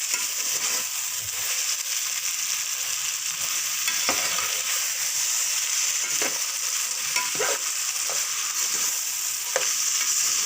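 Taro root (arbi) is stir-fried in a pan, giving a continuous hissing sizzle. Scattered scraping and clinking stirring strokes sound close by, alone without any voices.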